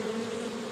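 A soft, steady buzzing hum of honeybees swarming around rooftop hives in London, continuous and fairly faint for a brief moment.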